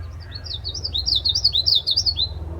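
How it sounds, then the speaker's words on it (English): A songbird singing outdoors in the morning, a bright run of rapid warbling, twittering notes lasting a couple of seconds over low background rumble, fairly close and clear. "Can you recognize that bird singing?"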